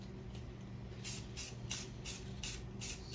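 Spray paint hissing onto a space painting in bursts, about five or six short, bright sprays at an uneven rhythm over a low steady background hum, close and fairly soft.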